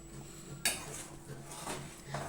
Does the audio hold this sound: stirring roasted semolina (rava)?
yes